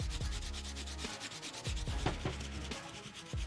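A sneaker's midsole and outsole are scrubbed with a hard bristle brush in quick repeated back-and-forth strokes, a close rasping scratch that pulses in short bursts with brief pauses.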